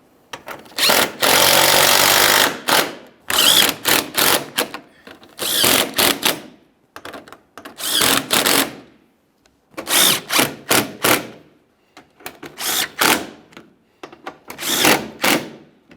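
A power drill snugs up the headlight mounting bolts on a 2015-2020 Ford F-150, heard close as about eight short whirring bursts separated by brief silences.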